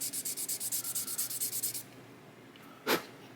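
Fine-grit sandpaper rubs a tiny 1/350 scale model battleship gun part in a quick, even series of about fifteen close back-and-forth strokes, then stops, followed by one brief scrape.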